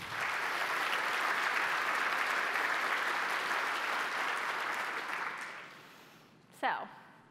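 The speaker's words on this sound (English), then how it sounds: "I think we should give them a round of applause" A conference audience gives a round of applause, full and even clapping from a large crowd for about five seconds before it fades out, followed by a single brief knock.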